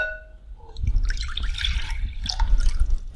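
Lye water poured from one container into a separate glass container while making homemade soap, a close, steady splashing trickle with dripping that lasts a few seconds.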